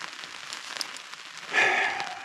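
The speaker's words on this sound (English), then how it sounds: "here we are again inside the shelter because it is raining" Rain patters steadily on an improvised tarp shelter overhead while wild camping, swelling into a heavier burst of drumming drops toward the end.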